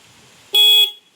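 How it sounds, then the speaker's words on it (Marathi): One short, loud car horn honk, a single steady beep lasting about a third of a second, close by. "वेदू गाडी चालू कर बघू, गाडी चालू कर आणि हॉर्न वाजव"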